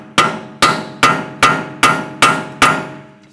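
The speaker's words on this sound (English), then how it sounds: "just give it a tap with a hammer" Hammer tapping out the outer tie rod bolt on a 2004-2009 Audi A4 Quattro, seven sharp metallic strikes at an even rhythm about every half second, loud and close with short ringing decay and no talking.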